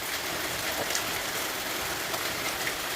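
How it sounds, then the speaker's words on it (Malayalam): Heavy rain falls steadily in a garden, a dense, even hiss of drops close by with no voices. "അപ്പോൾ നല്ല മഴയാണ്."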